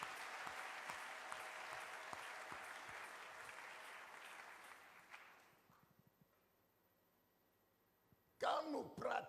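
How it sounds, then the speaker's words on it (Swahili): A church congregation at a Sunday service claps for Jesus, with sustained rhythmic applause that fades to near silence before a voice speaks over the hall at the end. "Tumchapie makofi Yesu"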